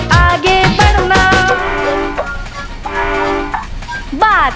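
A playful train effect sounds in a Hindi children's rhyme, with a horn-like tone, chugging rhythm and a rising whistle sweep near the end. It is loud and up front, mixed with music and singing.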